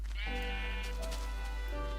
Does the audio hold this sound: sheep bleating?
yes